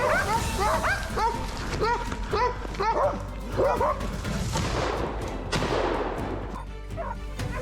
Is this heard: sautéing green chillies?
no